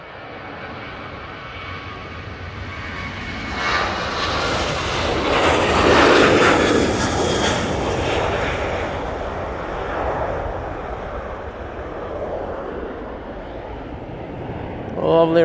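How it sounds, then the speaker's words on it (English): A Ryanair jet departs Manchester Airport, bound for Venice, with a broad engine roar that swells and then slowly fades. The sound is steady and moderately loud, with wind in the background. "Lovely Ryanair departure there."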